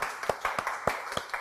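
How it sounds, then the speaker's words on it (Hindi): A small group claps in a loose, uneven rhythm during a studio segment with The Great Khali, the slaps fairly close against a faint background hum. "तालियां तो बनती है"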